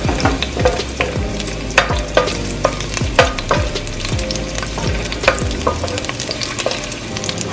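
Garlic fries in two tablespoons of hot vegetable oil in a pan over medium heat, a steady close sizzle punctuated by repeated sharp spatula taps and stirring knocks.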